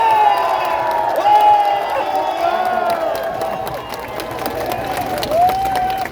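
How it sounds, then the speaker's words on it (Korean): A large crowd at an outdoor election campaign rally in Gunpo, South Korea cheers and shouts continuously, with voices rising and falling in a sustained roar and faint clapping underneath. "큰 함성과 박수를 부탁드립니다"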